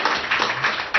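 A brief, dense wash of audience applause at a talk on osteopathy, steady and fairly loud, with no speech over it.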